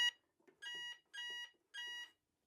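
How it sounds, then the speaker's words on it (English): A Veritas 8 security alarm panel sounds its entrance tone: three clear, even electronic beeps of equal length, each about a third of a second, close and moderately loud, with faint handling noise between them. "When you're coming back into the property, it will start the entrance tone."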